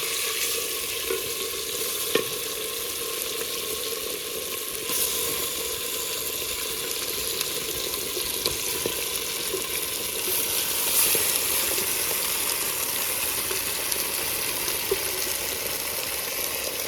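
Meat frying and being stirred in a clay pot, producing a continuous, even sizzle with occasional faint clicks and scrapes, steady from start to finish.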